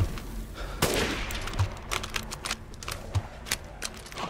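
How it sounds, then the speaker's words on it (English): Enemies firing guns at the player in Resident Evil Village: scattered sharp shots at irregular intervals, some louder bursts among fainter distant cracks, over a steady low background with no talking. "Now they're actually shooting at me."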